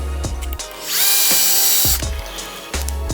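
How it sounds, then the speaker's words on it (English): A power driver runs screws in while a Yokomo YD-2S Plus RC car transmission is put together: several close, whining motor bursts of varying length, starting and stopping, with a long sustained run in the middle. "And then you can just line this up and start screwing."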